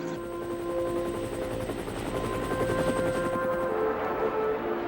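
A helicopter stationed at a military field hospital thrums steadily throughout, a loud continuous rotor drone with a whining tone, fading slightly near the end.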